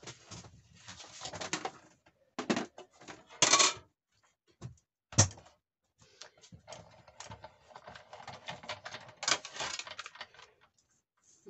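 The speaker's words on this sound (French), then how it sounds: "Je coupe à la Big Shot." A Big Shot die-cutting machine cutting a 9.3 cm paper circle, heard as quiet, close, intermittent cranking and clattering bursts separated by short pauses, with no talking.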